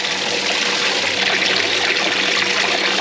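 A DIY cooler live well pump circulates water with its air intake hole covered, giving a loud, steady trickling and splashing flow of water that runs unbroken with no talking.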